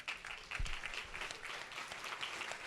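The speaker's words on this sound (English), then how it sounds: "everyone in this room, because you're part of this like amazing TechTO community that should probably give itself an applause right now" A tech community audience in a conference room gives a quiet, dense wash of applause, faint and somewhat distant, steady throughout with no talking over it.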